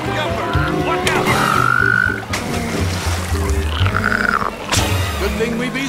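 Frogs croak around a pond in the 2007 PC video game Bee Movie Game, with repeated croaks sounding close and loud over a busy layer of game music and effects.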